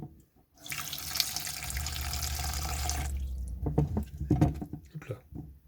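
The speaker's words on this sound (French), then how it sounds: "Ça, l'eau, elle s'évacue." Water pouring and draining through a small coconut shell with a hole that holds tomatoes, in a van kitchen: a steady close rushing stream for a few seconds, then irregular drips, splashes and handling clatter.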